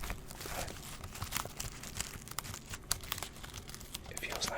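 Keys on a plastic-wrapped keyboard are pressed in a quick, irregular run of soft clicks mixed with crinkly plastic rustling, close and quiet in an ASMR setting.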